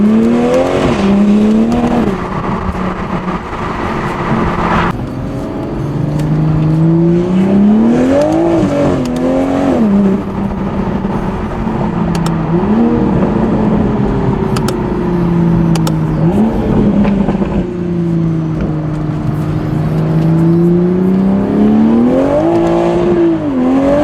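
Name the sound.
Toyota Supra engine revving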